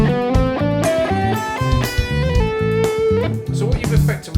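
A minor hexatonic scale with the sixth left out, played as a flowing melodic run of distinct notes over a sustained backing, with effects-laden, slightly distorted tone and no talking.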